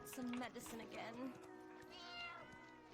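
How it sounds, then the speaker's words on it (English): A cat meowing in the game Black Desert Online, a few high, rising calls at moderate distance, mixed with other game sounds and a voice talking. "Oh, there's the cat over there."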